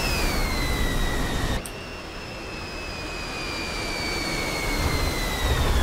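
A MiG-15bis jet roars steadily with a high whine in the DCS flight simulator as it lands, dropping abruptly in level partway through, then continuing as a broad, constant engine rush.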